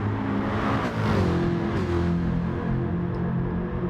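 Aston Martin race car engines in a racing video game: steady loud engine drone with shifting pitch as the cars run close together, continuous throughout.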